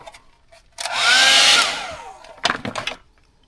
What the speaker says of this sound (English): Go ahead and heat shrink this.